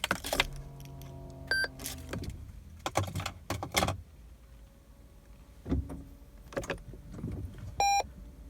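A Toyota's ignition is switched on, giving a few short electronic beeps and chimes with brief mechanical clicks and whirs between them, close and clear with no talking.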